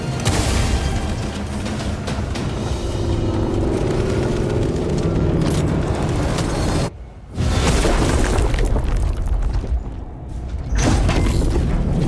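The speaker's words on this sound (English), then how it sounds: "I hear engines." Deep engine rumble from the Warhammer 40K: Space Marine 2 game, a dense, loud roar with booming, mechanical clanks and crashes, holding steady for about twelve seconds with two brief drops.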